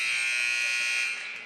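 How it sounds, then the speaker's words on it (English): A basketball game buzzer ends the half at a girls' high school tournament game: one loud, steady electronic tone that holds for about a second before fading. "The buzzer will sound on a half of play"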